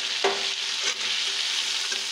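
Chana masala being mixed with chaat masala in a hot pan: steady sizzling with a few scraping stir strokes, close and alone with no talk.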